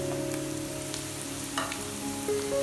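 Onions frying in oil for a tori (ridge gourd) curry, a steady moderate sizzle with a few light spatula scrapes.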